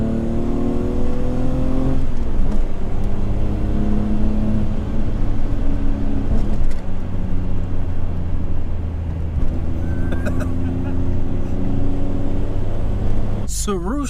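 The 3.6-litre straight-six of a BMW E34 M5 climbs through repeated rising revs, loud and close, with engine notes sweeping upward and falling back; voices talk over it.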